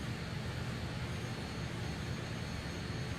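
Jet engines of a Fokker F28 airliner in a flight simulator game drone steadily as a broad, even roar with a low rumble, constant in loudness and free of speech.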